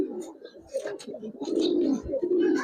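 Giribaz pigeons coo in a loft, a steady run of low, throaty coos swelling and fading over one another, fairly close, with faint scattered chirps and a brief murmur of voices underneath.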